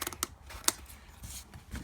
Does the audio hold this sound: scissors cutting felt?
yes